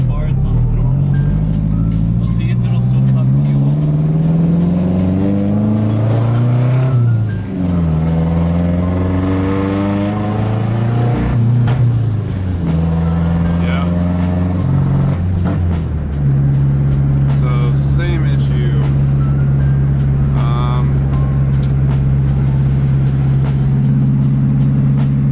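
A 2JZ-engined Nissan S13 revving loudly and close, its engine note climbing and falling through several long sweeping pulls before settling into a steady high drone, with people talking over it.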